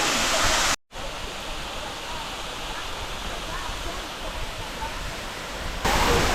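Tamarind Falls in Mauritius, a waterfall emerging from a cave-like hollow, gives off a loud, constant rushing roar that fills the space, with a brief cut near the start.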